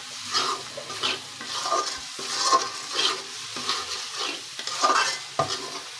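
Chili powder and other ingredients stirred in a frying pan for an egg korma, with a steady scraping, sizzling rhythm of repeated strokes close by and no talking.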